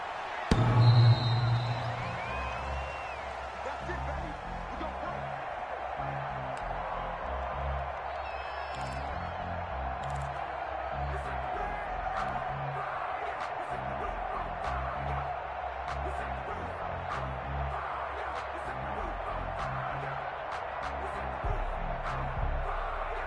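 A Packers versus Buccaneers American football video game stadium crowd gives off a steady, broad roar that swells briefly at the start, then holds a constant murmur, with faint thumps and scattered distant shouts.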